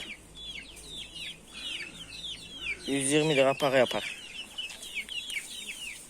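Young chicks peep in a rapid series of high chirps throughout, while someone speaks briefly in the middle and a hen's cluck joins near the end.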